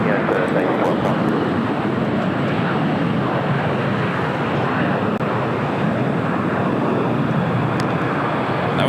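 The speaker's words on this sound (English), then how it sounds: "That was the 757 heading to Denver, flight 1912." A Boeing 757 jet departs LAX as flight 1912 to Denver, its broad, continuous engine roar loud and steady throughout, heard close with no break in the noise.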